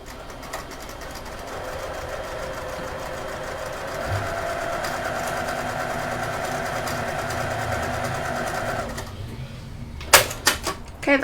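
A sewing machine stitches a wallet seam at stitch length 3, running in one steady, close, even whirr of rapid needle beats for about nine seconds before stopping, followed by a few sharp clicks.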